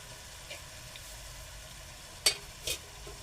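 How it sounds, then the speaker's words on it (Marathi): Raw papaya being stirred in a kadhai gives a faint, steady low sizzle with soft scraping, broken by two sharp clinks of the spoon against the pan near the end; no voices. "ढवळून घेऊ चांगलं."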